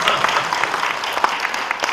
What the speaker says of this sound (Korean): 이때는 박수를 한번 치는 겁니다.